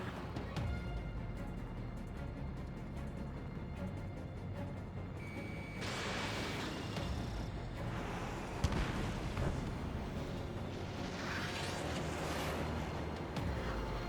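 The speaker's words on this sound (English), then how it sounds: "Taking fire!" Gunfire strikes aircraft during an air combat mission in Ace Combat 7 on PS5, a dense rumbling roar of jet noise and rattling hits with rushing bursts, steady and fairly loud throughout.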